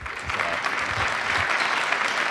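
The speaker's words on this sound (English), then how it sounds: "Big round of applause for Silicon Prairie News" An audience at a community event in Kansas City claps steadily and evenly for a couple of seconds, filling the room with dense, sustained applause.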